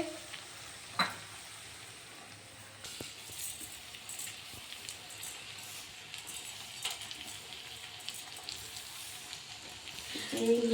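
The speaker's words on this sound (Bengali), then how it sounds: "মিষ্টি দেওয়া ভাত, এটাকে একটু নাড়াচাড়া করবো" Sweetened rice, about eighty percent cooked, is stirred in a pan, with a steady low sizzle and scraping under faint background noise and a couple of sharper knocks near the start and end.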